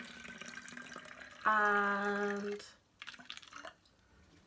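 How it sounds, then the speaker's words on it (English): Water runs into a spray bottle for a homemade synthetic wig spray, a brief rising tonal pour of about a second after a single spoken word, followed by faint handling noises. "the first thing you're gonna do is you're gonna put some water into the spray"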